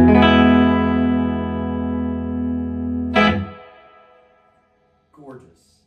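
A 1971 Fender Deluxe Reverb tube amp, freshly serviced, rings out with a sustained electric guitar chord full of reverb, then a sharp pick attack and a short decaying strum, ending with a brief quieter strum.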